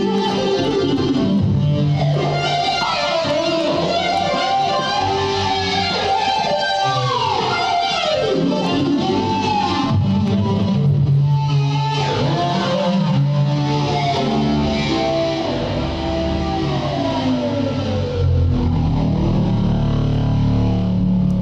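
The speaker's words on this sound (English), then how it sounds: "a signature lead sound that I made, and it sounds a bit like this." A self-made signature synthesizer lead patch played by a keyboardist, a loud, sustained, distorted tone with gliding pitch bends and dense harmonics running continuously throughout, with no talking.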